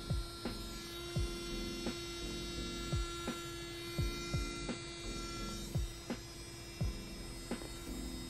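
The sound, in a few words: Melodysusie Atena cordless nail drill running at 28,000 RPM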